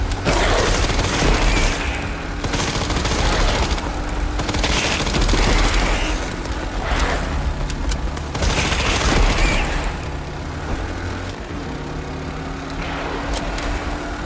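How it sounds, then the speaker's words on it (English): Sustained gunfire in the video game Resident Evil Requiem: dense volleys of rapid shots and heavy booms keep going almost without a break for about fourteen seconds, loud and close, with no talking. "Shots, more of them, fine."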